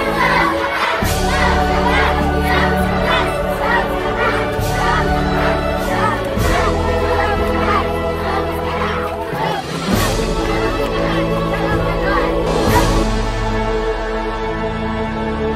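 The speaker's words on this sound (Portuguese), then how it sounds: "que tal a gente gritar para todo mundo ouvir que nós somos capazes?" Children shout together in unison as a group, a loud and continuous burst of young voices with cheering crowd-like energy, sustained for over fifteen seconds with a few brief dips in volume.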